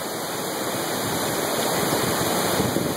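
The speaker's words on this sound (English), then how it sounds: "the water's roaring" Roaring river water on the West Fork Carson River at a Hope Valley campground in spring, a loud, steady broadband rush that fills the whole clip close by, with no voices over it.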